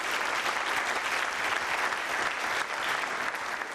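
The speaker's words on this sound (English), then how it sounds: "please give Mr. Adekunle a round of applause" An audience at a 2019 forum claps for a guest, Mr. Adekunle, as he is introduced; the applause is dense, steady and continuous throughout, with no pause or speech.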